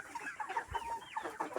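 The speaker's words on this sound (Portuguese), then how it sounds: "Tá aqui minhas galinhas aqui, ó." Free-range chickens cluck in a rapid, overlapping chorus close by, with short repeated calls running steadily throughout and no voices.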